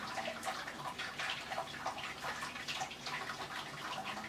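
Water runs steadily through a siphon tube used as a hose while brewing on a Grainfather. The flow is a continuous, gentle splashing trickle, fairly quiet and close, with no one talking.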